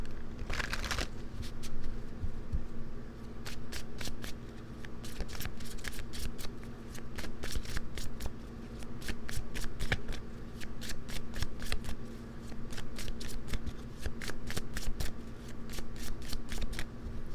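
A deck of tarot cards being shuffled by hand, with repeated crisp riffling bursts and short pauses between them. The sound is close and steady, running for many seconds, with no talking.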